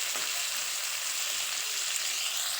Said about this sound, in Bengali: আলুগুলোকে দিয়ে আলুগুলোকেও হালকা ভেজে নেব